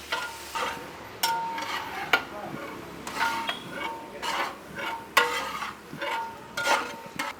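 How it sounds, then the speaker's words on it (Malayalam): Boiled buffalo meat being stirred with salt in a pot, a series of scraping, clinking spoon strokes against metal arriving in irregular bursts, close and moderately loud with no talk. "ഇനി ഒരു ഇളക്കുണ്ട്, ഈ ഉപ്പിട്ടിട്ട് ഇളക്കണം."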